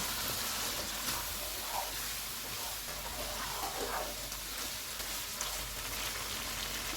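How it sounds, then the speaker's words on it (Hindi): Beef frying with masala spices in a pot, a faint, steady sizzle and crackle running throughout with no talk. "बीफ को मैंने अच्छी तरह भून लिया।"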